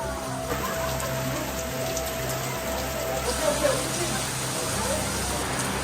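Steady rain in Bali, Indonesia patters and drips across surfaces under a constant background hum, with occasional heavier drops.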